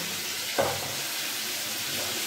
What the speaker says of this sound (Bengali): মাছ এদিকে ভাজা হয়ে গেছে,